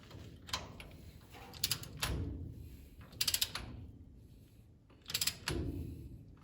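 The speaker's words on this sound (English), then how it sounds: "I'm going to go ahead and torque them down to 40 foot-pounds." Torque wrench clicking and ratcheting while bolts are tightened to 40 foot-pounds on a Ford 9 inch axle of an F100, with several bursts of clicks separated by short pauses, close by.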